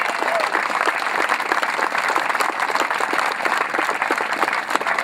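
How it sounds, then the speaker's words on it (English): A large audience claps in sustained, dense applause at an outdoor Face of America 2009 event honoring soldiers, steady and fairly loud throughout. "Let's give them a round of applause."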